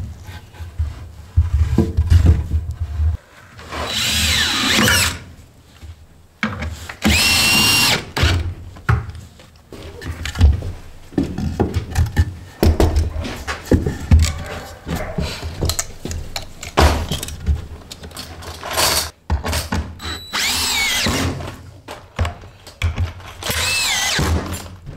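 A power drill fastens a 2x4 nailer into an old mobile home trailer floor under repair. It comes in several loud, close bursts of whirring that start and stop, with pauses, thumps and handling noise between them.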